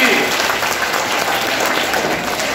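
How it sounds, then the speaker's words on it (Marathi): Dense, loud applause from a school audience cheering a quiz team at a Marathi Day event, continuous clapping filling the whole moment. "टाळ्या होऊन जाऊ द्या त्यांच्यासाठी"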